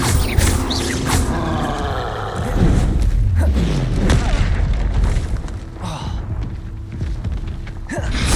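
Deep booming explosions from Confringo fire spells in the video game Hogwarts Legacy, repeated heavy thuds layered over a dense, rumbling game soundscape that stays loud throughout.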